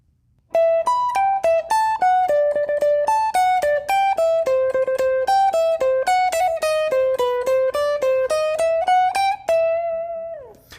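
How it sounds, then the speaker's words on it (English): A fast electric guitar lead line plays clean, harmonized notes in a steady run, loud and up front with no talking. "That first solo in the song is sandwiched between a harmonized lead line that sounds like this."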